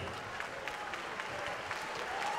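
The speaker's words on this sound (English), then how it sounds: "let's have a big round of applause for both of the fighters in this ring" Boxing crowd applauding both fighters in the ring after a ten-round championship bout, a steady, fairly faint wash of clapping with no speech over it.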